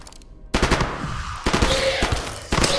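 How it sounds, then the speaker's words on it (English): Gunfire from a video game weapon in burst mode, loud sharp shots in several quick clusters over a steady game soundscape. "Why is this a burst fire now?"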